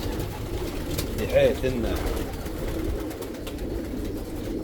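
Hungarian and Dutch homing pigeons coo in a loft, with one clear coo rising over a steady murmur of birds while someone speaks Arabic throughout.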